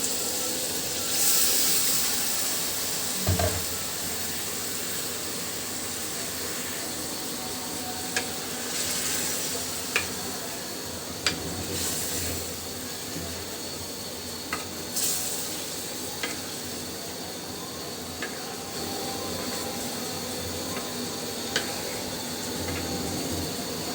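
Washed beef goes into a pan of sizzling, oil-glossed spice masala and is stirred, producing a loud, continuous frying hiss punctuated by repeated clicks and scrapes of the spoon.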